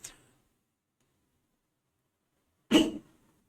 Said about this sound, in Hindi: वो थोड़ी खांसी आ गई थी ना इसलिए।